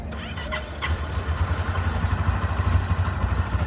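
A motorcycle engine is cranked and started during a battery test, a close mechanical clatter settling into a rapid, pulsing idle.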